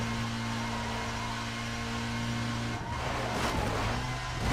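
Race cars roar at speed in the racing game Need for Speed Most Wanted Redux, with a steady engine drone that shifts after a few seconds into a burst of tire screech and rising revs.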